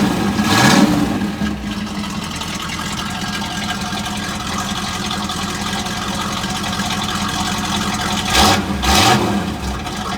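A 1967 Chevrolet Camaro SS convertible with a 327 V8 and mild cam cranks and fires at the start, then settles into a steady, lumpy idle, with a brief blip of revs near the end.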